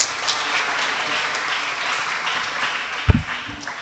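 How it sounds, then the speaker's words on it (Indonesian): Crowd applause at a ministerial visit to an Islamic boarding school, dense steady clapping from many hands filling the room, with a sharp thump near the end. "Tepuk tangan lagi."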